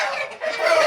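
Rooster for sale, an August-hatched fighting breed weighing about four kilograms, clucks and calls continuously and fairly close, with a raspy, steady voice and no speech over it.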